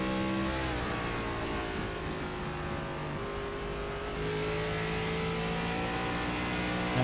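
A race car engine in the iRacing video game during an onboard lap at Bristol, a continuous loud, droning roar with slowly shifting pitch and no speech.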